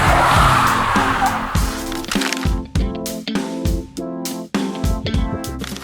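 A Mazda CX-80 SUV with a 2500 cc engine pulls away and accelerates, its engine note rising in a series of close, loud revving surges with brief dips between them.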